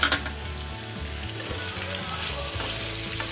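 Mixed vegetables cook on low flame in a covered pan; as the lid lifts, a soft steady sizzle and gentle bubbling carry on evenly at moderate loudness, with no talking.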